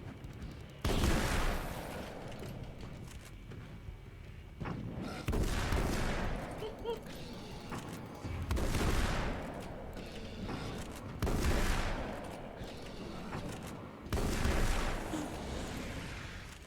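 Gunshots from Alan Wake's American Nightmare come in five heavy, booming bursts spaced a few seconds apart, each rolling into a sustained rumble, loud and close over quieter game ambience.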